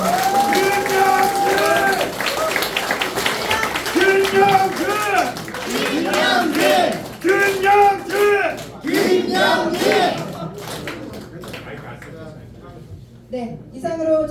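Audience applause for candidate Kim Young-jin at the close of a press conference for a Jeju City constituency, National Assembly election, held at the Jeju Provincial Council; clapping runs under ongoing voices and music-like tones, thinning toward the end.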